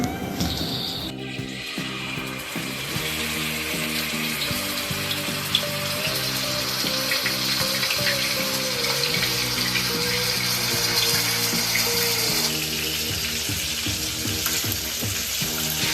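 Marinated tuna pieces frying in coconut oil, a loud continuous sizzle and crackle with a wet, bubbling texture and occasional stirring or handling knocks, close up, with no voices.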